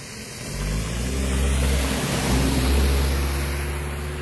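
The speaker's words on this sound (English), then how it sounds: "a minibus is coming. Racing down the road, of course." Minibus racing down a flooded road, a loud engine roar that swells as it approaches and passes close by, with a broad rushing hiss over it.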